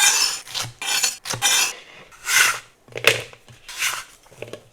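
A knife cuts bell peppers into strips, making repeated rasping slices against a board, several short, close strokes in an uneven rhythm with brief gaps between them.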